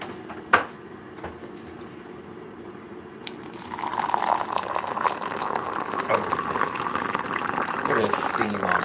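Hot water is poured into a container, a steady rushing liquid sound that begins partway through after a sharp knock, with no talk over it.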